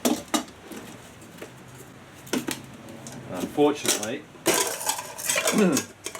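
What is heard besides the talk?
camping cooking pots and pan being handled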